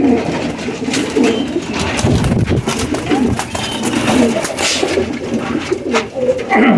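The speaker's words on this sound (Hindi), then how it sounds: "ये है ओरिजिनल मेरों वाला कबूतर" Pigeons of a breed called original mehron wala teddy coo close by in deep, throaty rolling calls, repeating over steady background noise, with faint talk mixed in.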